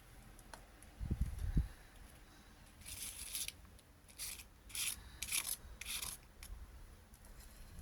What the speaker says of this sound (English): Using a spatula, painter's spatula.